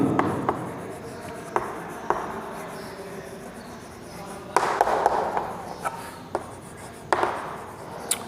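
Chalk or marker strokes on a classroom board during a Class 12 maths lesson on maxima and minima, with scratchy bursts of writing recurring at intervals, moderately close, with no speech over them.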